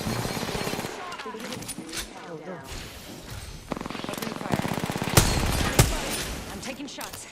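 Rapid bursts of gunfire and sharp shots in the tactical shooter Valorant, loud and close, with several heavy cracks near the end and people talking over the action.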